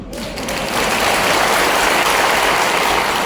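A crowd at a BJP membership drive rally in Ater, Bhind, claps in a dense, steady wash that swells quickly after a brief start and holds loudly to the end.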